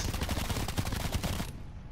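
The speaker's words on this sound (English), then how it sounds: "Why are you shooting, like, right next to me?" Rapid automatic gunfire from the video game Black Ops 4 rattles in dense bursts for about a second and a half, then cuts off into quieter background.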